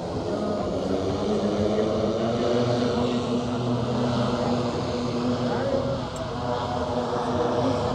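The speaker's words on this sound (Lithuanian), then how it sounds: "Koks lėktuvėlis." A small propeller airplane passes over a drag racing event, its steady droning engine tone holding at moderate loudness throughout with little change.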